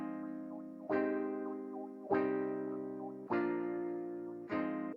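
Guitar Wow preset from the Analog Lab synth plays four sustained, bright guitar-like chords with a sharp attack and slow decay, evenly spaced about a second apart, with no talk.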